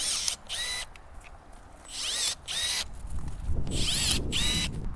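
Milwaukee M12 power pruners cutting tree branches outdoors, with several close bursts of a high whining motor that rises and falls as each cut is made, separated by brief pauses.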